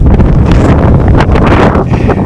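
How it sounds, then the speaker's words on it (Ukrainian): Strong gusting wind buffets the microphone on the Vereda do Risco trail in Madeira, a loud continuous roar with surges and rustling, no talking. "тут вітер сильний дуже"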